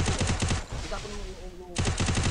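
Rapid bursts of video game gunfire, loud and close, separated by a brief quieter gap with faint tones before the shooting resumes.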